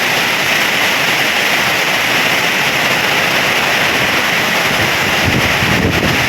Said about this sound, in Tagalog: Grabe yung lakas na ng hangin.